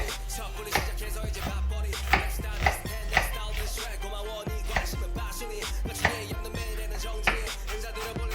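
A knife chops onions into small dice on a cutting board, irregular sharp thuds coming in quick clusters, close and fairly loud, with no voices.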